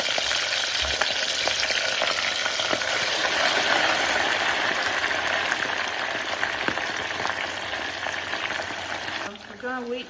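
Loud, steady crackling sizzle of chicken deep frying in hot oil, continuous throughout, with a faint voice briefly near the end.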